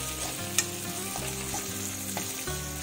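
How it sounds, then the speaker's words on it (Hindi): Cumin, onion and green chilli sautéing in a pan for a potato sabzi, a continuous close sizzle with a low hum beneath, broken by a few quick spoon taps and scrapes. "इसमें जीरा डाला है, प्याज डाला है, और हरी मिर्च डाला है, और बस इसे थोड़ा सा सॉटे करेंगे"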